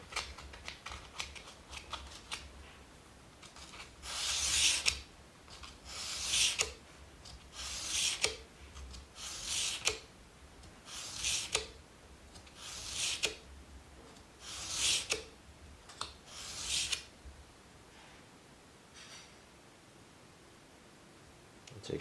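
An English edger blade with a flat bottom is sharpened with steady, rhythmic strokes on a stone, about nine long close rasping passes at even intervals, then quieter handling.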